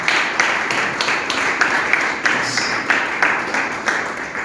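Crowd applause at a church gathering welcoming a reverend prophet coach and his wife, steady dense clapping with rhythmic accents throughout, moderately loud.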